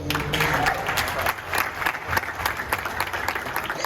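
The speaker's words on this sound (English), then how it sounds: "Please, a round of applause." An audience applauds at a meet-and-greet, a steady round of clapping that holds for the full stretch with crowd murmur and some talk mixed in.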